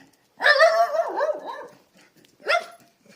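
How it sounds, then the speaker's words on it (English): A dog barks nearby outdoors in West Yorkshire, a loud drawn-out bark-whine followed by a second short bark after a pause. "There's a dog here, so there could be some barking going on."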